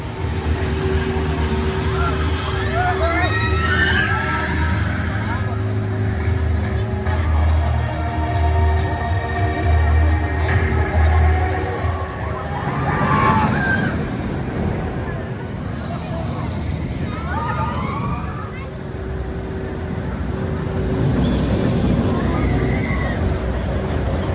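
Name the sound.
Icon roller coaster ride at Blackpool Pleasure Beach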